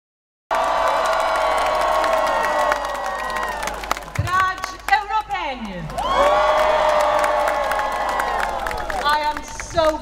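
A massive rally crowd in Chisinau cheers and roars in sustained waves, with whoops and clapping, dipping briefly in the middle before swelling loudly again.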